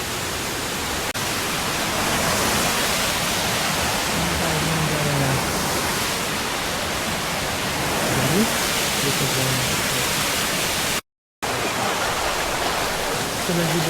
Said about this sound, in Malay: Ini lah air terjun Kudus Puteri.